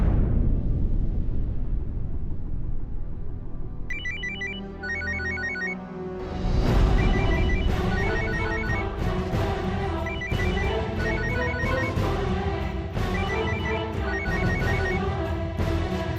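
A phone ringtone chimes in repeated bursts during a Marathi TV serial scene, laid over a dense musical background with no talking.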